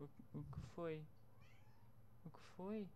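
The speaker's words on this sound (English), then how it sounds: "she just started meowing at me." A pet cat meows twice, close by and fairly clear, with a few short spoken words from a person in between.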